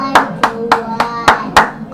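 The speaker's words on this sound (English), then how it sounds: "Yeah, I'm clapping it up for the prophet" A person claps their hands five times in a slow, uneven rhythm, each clap sharp, close and fairly loud, with no talking between them.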